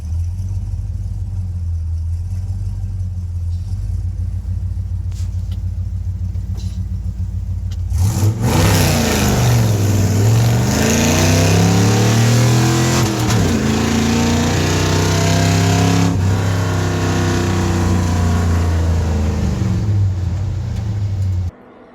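A 1980 Squarebody pickup truck idles at a rough, low rumble, then the engine roars up loudly and revs repeatedly, rising and falling in pitch, during a bean field race before cutting off abruptly.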